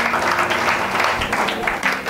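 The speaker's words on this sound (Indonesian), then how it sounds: "Berikan tepuk tanganmu untuk Tuhan" A church congregation at a Sunday service applauds for God, a sustained wash of clapping from a large crowd over a low hum, with faint voices mixed in.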